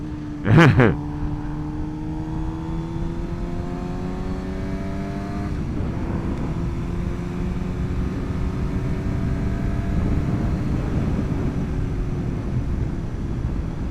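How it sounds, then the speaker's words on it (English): A 2025 Suzuki GSX-R 750 motorcycle winds down under engine braking, its engine note falling steadily in pitch for several seconds, then settling into a lower drone with a brief loud burst near the start. "this 750, the engine braking is serious on this thing."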